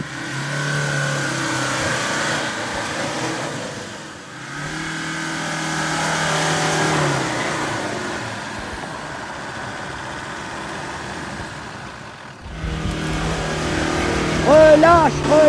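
A 4x4 off-road car's engine revs and accelerates while its front wheels spin, a loud sustained drone that swells and eases, rising again near the end, with people talking over it.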